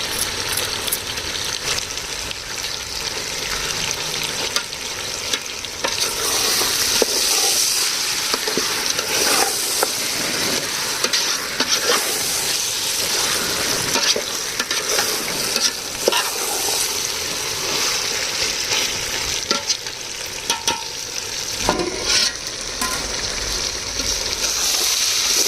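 Ginger garlic paste sizzles and spatters in a hot pan while a spoon stirs and scrapes, a steady close frying hiss with occasional clinks, no talk.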